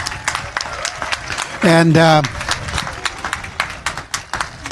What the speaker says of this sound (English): Round of applause for the Tiny Tots